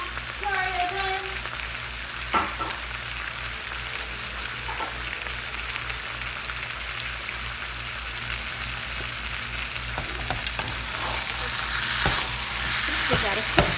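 Food is tossed and stirred in a hot frying pan for a one-pan meal, with steady loud sizzling throughout, scattered utensil scrapes and clatters, and the frying growing louder toward the end.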